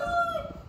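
A rooster on a farm crows once, brief and fairly clear, with a sustained tonal call that fades out quickly.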